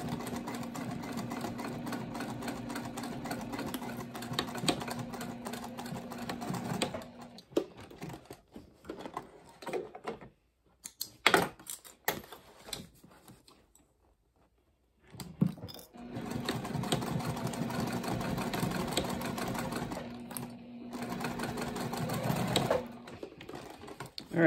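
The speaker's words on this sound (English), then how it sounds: "this needs to be sewn at a half inch seam allowance" A sewing machine stitches a backpack seam in two long runs with a steady mechanical whir, broken by a quieter pause with handling noises and clicks, close and clear.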